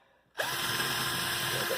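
Power drill starting up and drilling into a keyboard case, a sudden loud close whine that holds steady to the end after a quiet moment.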